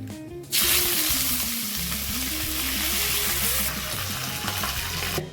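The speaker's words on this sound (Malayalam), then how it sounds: "ഇനി നമുക്ക് ആവശ്യത്തിന് കടുക് ഇട്ട് കൊടുക്കാം രണ്ട് വറ്റൽ മുളക് ഇട്ട് കൊടുക്കുന്നുണ്ട്" Mustard seeds and two dried red chillies sizzle loudly in hot oil for a Kerala ash gourd buttermilk curry, a steady crackling hiss with faint popping that starts abruptly and carries on without talk.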